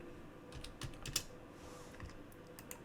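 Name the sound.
typing on computer keyboard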